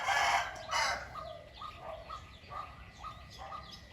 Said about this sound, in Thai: เดี๋ยวฟัง มันขันโยนไปสักแป๊บนึงก่อน